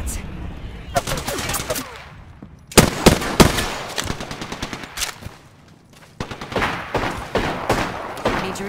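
Rapid automatic gunfire from an R99 in the Apex Legends video game rattles in loud bursts, with short pauses and further volleys, close and harsh, occasional game voice lines underneath.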